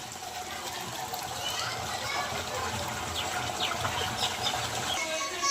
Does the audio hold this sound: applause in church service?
no